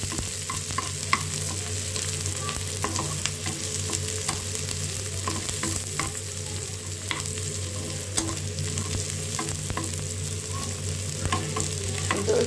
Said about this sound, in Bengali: পেঁয়াজের সঙ্গে আমি রসুন কুচিটাও দিয়ে দিব। এটা সুন্দর করে বাদামি রঙের করে ভেজে নিচ্ছি।